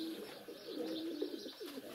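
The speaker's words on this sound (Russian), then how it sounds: "И голуби достают, едят." Pigeons coo softly at a bird feeder outdoors, a low, rolling, warbling call repeated a few times at a quiet, moderate distance.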